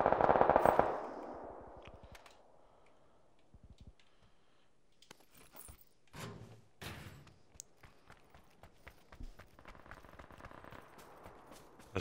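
Gunfire in an Xbox video game opens with a loud burst, then scattered, quieter shots and short rattling volleys crackle at a distance for several seconds.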